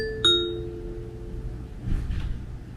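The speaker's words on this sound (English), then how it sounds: "Someone is at the doorbell." An Echo Show sounds a chime for a Eufy 1080p battery doorbell press: a single bright ding that rings out and fades, followed by faint shuffling in a quiet office.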